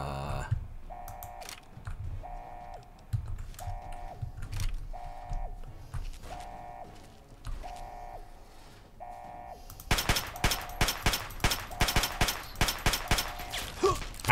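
Gunfire from the player's weapons in Fallout 3 breaks out as rapid, loud, closely spaced bursts of sharp shots, following a stretch of repeating electronic game tones.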